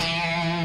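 Distorted electric guitar holding a sustained note with rich overtones, the start of an E pentatonic three-note-per-string run, brief and fairly quiet, with no voice.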